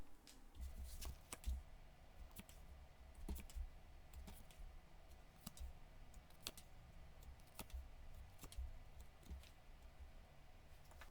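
Tarot cards shuffled and drawn by hand during a reading, a quiet run of soft riffling and sharp card snaps scattered at irregular moments, close and alone without any talk.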